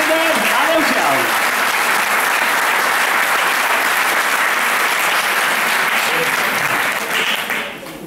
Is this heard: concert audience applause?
yes